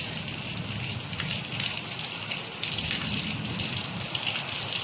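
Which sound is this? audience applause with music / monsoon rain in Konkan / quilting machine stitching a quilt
monsoon rain in Konkan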